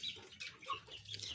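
Chickens and young roosters clucking in a backyard coop, close and fairly loud, with short overlapping clucks and calls and no talking.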